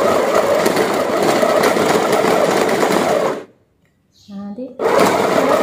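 Cosmos CB 802 four-in-one blender motor running loud and steady, cutting out briefly while a person talks quietly, then starting up again at full power.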